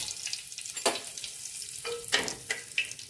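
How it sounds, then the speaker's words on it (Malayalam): Curry leaves dropped into sesame oil with popped mustard seeds in a clay pot, giving a close sizzle with a few sharp crackling bursts and spatters over a quieter hiss. "കടുക് പൊട്ടി കഴിഞ്ഞ് കറിവേപ്പില ഇടാം"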